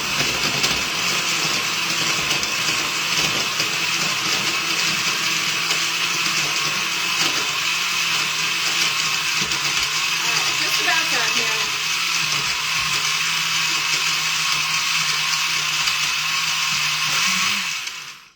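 A blender whirs continuously at high speed for about eighteen seconds while mixing a whey protein shake, loud and close with a steady motor whine that cuts off abruptly at the end.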